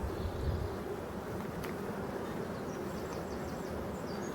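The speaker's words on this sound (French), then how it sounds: "c'est des abeilles relativement calmes" Honeybees buzzing steadily around an open hive during a beekeeping inspection, a faint continuous drone with no talking.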